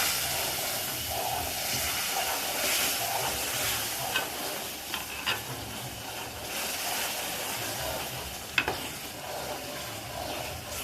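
Hot water poured a little at a time into roasted pearl millet (bajra) sheera sets off steady, fairly loud hissing and sizzling, with faint stirring clicks and a few sharp clinks, no talk.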